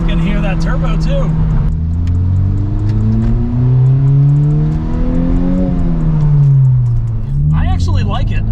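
Loud, close engine of a 2021 Honda Civic Type R FK8 with its muffler deleted, revving up and down in smooth sweeping pitch arcs, with a turbo whoosh on top. Brief bursts of talk sit at the start and end.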